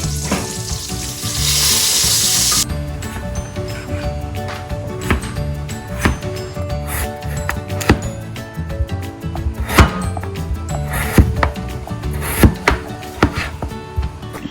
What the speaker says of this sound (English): and we'll keep cutting potatoes.